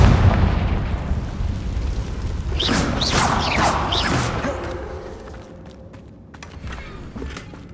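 A Confringo fire spell from the game Hogwarts Legacy goes off as a loud burst, trailing into a crackling, rumbling blast that fades out over several seconds.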